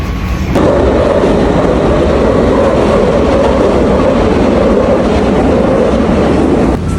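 A train rolls loudly past at a station, a dense continuous roar and rumble with steady rail clatter that holds at full strength for several seconds before cutting off abruptly near the end.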